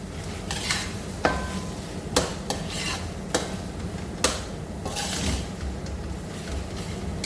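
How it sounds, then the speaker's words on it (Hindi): Chicken spaghetti sauce with ketchup being stirred in a pan, a steady wet sizzle underneath while the spoon clinks sharply against the pan several times at uneven intervals, close and clear. "केचप ऐड होगी, इसे मिक्स कर लेंगे अच्छी तरह"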